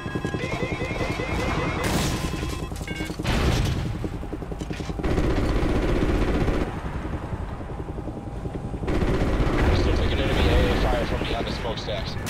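Rapid 30mm cannon fire and missile launches with heavy booms from a helicopter gunship in the video game Call of Duty: Ghosts, over a constant rotor drone, with radio voices talking throughout.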